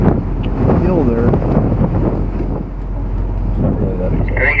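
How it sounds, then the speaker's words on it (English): Strong wind gusting across an open campsite on an overlanding trip in Newfoundland, buffeting the microphone with a steady low roar while people talk over it. "Actually, now that I'm over here, it's pretty windy."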